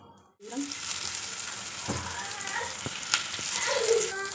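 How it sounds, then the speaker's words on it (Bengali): Two lentil dumplings (bori) fry in hot mustard oil, giving a continuous close sizzle that starts abruptly and holds steady, with a few faint clinks underneath. "এই যে দুটা বড়ি নিয়েছি বড়ি দুইটা ভেজে নেব"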